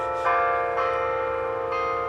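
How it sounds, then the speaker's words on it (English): Church bells ring loudly close by outdoors, with bright sustained tones struck again at roughly half-second and one-second intervals and ringing on without any talk. "so sorry about those church bells. They're kind of nice, but they're a little bit loud right here."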